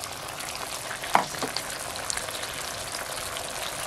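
Mapo tofu sizzling in a pan, a dense, even frying hiss throughout with a few brief stirring knocks near the start.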